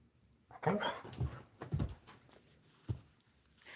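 A dog whimpers and yips in short bursts close by, a few breathy cries spread across the moment with quiet gaps between them, surrounded by toys at home.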